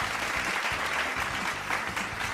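Applause from a studio audience on a radio talk show, a steady wash of clapping that sits over a low murmur of background sound.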